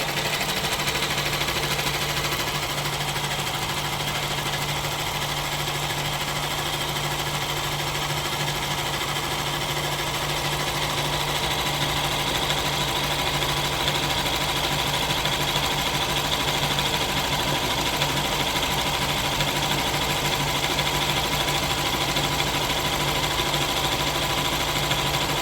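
A sewing machine runs steadily while winding thread onto a bobbin, giving a continuous motor whir and hum at constant speed throughout, close and unbroken.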